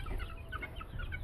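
Backyard chickens give soft, low clucks close by in a brief burst over a steady farmyard background.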